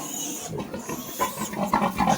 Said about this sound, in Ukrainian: Це я держу поросят.